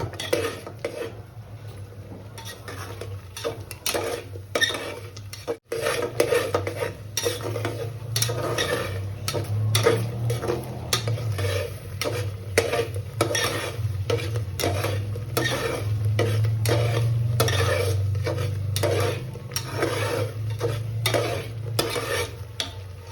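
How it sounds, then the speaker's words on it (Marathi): Chicken curry sautéed in a pressure cooker, with a spoon stirring steadily in quick repeated scrapes over a continuous sizzle, close and with no talking. "परतून घेऊया"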